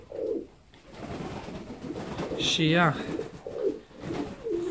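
Fancy ornamental pigeons in a loft coo in soft, repeated throaty bursts, one rolling call standing out nearby, while someone talks over them.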